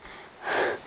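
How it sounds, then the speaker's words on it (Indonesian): A single heavy, breathy gasp of someone out of breath after hurrying through forest near a small river, short and close, rising and falling within a second. "Ngos-ngosan saya mas."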